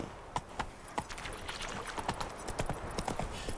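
Roach the horse walks in The Witcher 3: Wild Hunt, with hooves clip-clopping in a steady uneven rhythm at close range, moderately quiet, with no speech over the steps.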